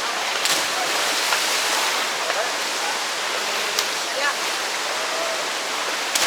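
Kawasan waterfall rushing, a dense, steady roar of falling water that stays loud and constant throughout with only small flickers of splashing.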